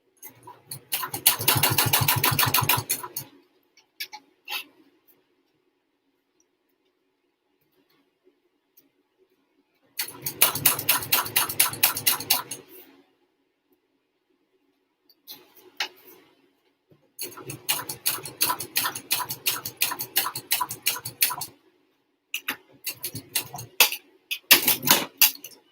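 A sewing machine stitches a fabric wristlet in several bursts of rapid, even mechanical chatter separated by pauses, the longer runs steady and close, with brief short stitches near the end.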